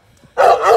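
A protection-trained dog bred for bite work lets out a single loud, close bark after a brief quiet moment, with no talking over it.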